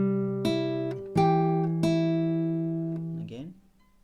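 Fingerpicked acoustic guitar playing an Amazing Grace arrangement, with a few plucked notes including an open string ringing out and sustaining, then fading at the end; no talking over it.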